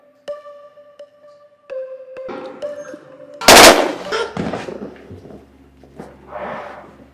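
Loud gunfire bursts during a tense drama film scene, a sharp broadband crack around the middle followed by a rumbling tail, after a stretch of tonal music-like hum.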